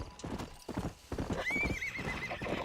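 A horse in the Red Dead Redemption game clip-clops in a quick, uneven hoof rhythm and then lets out a drawn-out whinny, fairly close and clear with no talk over it.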